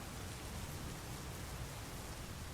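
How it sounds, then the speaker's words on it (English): Rain falling steadily as a thunderstorm eases, an even, dense hiss of drops on surfaces, moderately close with no thunder or voices. "Sounds like the thunder is relaxing a bit, and the rainfall isn't so rough anymore."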